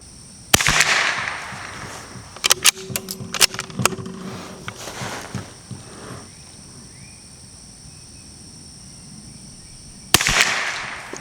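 Sharp, loud rifle reports from a Ruger Precision RPR or CZ457 MTR at an outdoor range ring out at the start and again near the end, with scattered lighter clicks and knocks in the quiet stretch between them.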